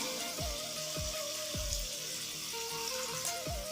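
Water poured into a pan of onions for chicken macaroni, a soft continuous hiss and trickle at low level, with a faint tonal hum and repeated short thumps in the background, no talking.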